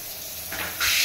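An overhead shower in a newly plumbed bathroom starts running, a steady broadband hiss of spraying water that swells louder partway through, close and alone without talk.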